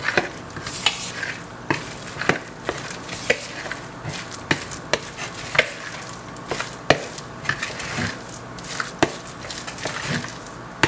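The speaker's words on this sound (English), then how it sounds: "And mix it up together." Corned beef fritter batter with baking powder is mixed in a bowl, giving repeated wet slaps and spoon knocks in an uneven rhythm, heard alone and up close.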